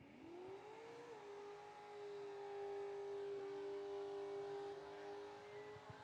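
A car engine held at high RPM during a burnout competition, screaming at a steady pitch after a quick rise, loud and close and sustained with no talk over it.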